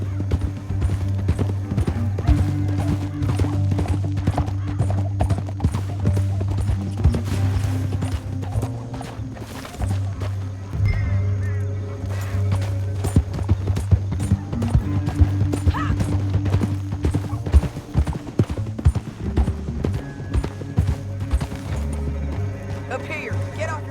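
Rapid horse hooves gallop steadily throughout in Red Dead Redemption 2, with occasional whinnies, under a continuous low music bed and some speech.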